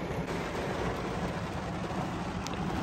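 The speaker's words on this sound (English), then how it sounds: "I don't know if y'all can hear me through all this rain." Heavy rain pours during a severe thunderstorm, a dense, continuous low roar of water with no voices, steady throughout.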